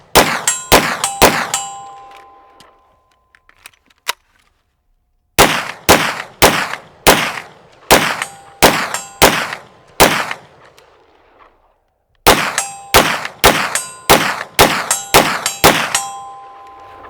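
Rifle rounds striking steel targets, bursts of rapid loud shots each paired with a ringing metallic clang, in three volleys separated by short pauses.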